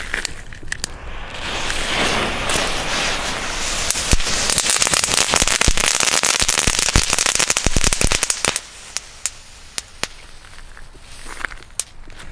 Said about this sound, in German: Ja, kurz, aber die knistern wenigstens.